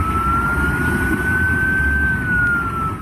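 An ambulance siren holds a single steady, slowly wavering wail over a rough, rushing background of floodwater and traffic on a bridge.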